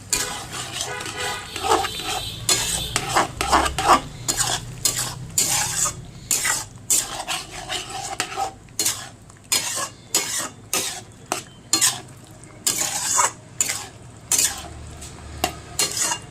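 Chicken kosha being stirred in a pan after a sprinkle of chopped coriander, with a steady sizzle of frying under repeated scraping and clinking of a spoon against the pan, loud and close, with no talking.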